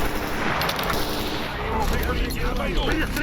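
Gunfire in the Stalker Anomaly shooter, rapid automatic bursts and shots crackling nonstop and loud over dense battle noise, close and continuous throughout.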